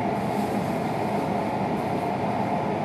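Tohoku Shinkansen Yamabiko train rolling into Tokyo station, a steady loud broadband rumble and rail hum from inside the car, continuous with no distinct clacks and no voices.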